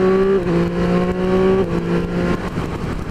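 A Triumph Street Triple 765 motorcycle engine revs up and down in steady harmonic tones, close and loud, with the pitch shifting between gears before rougher noise takes over.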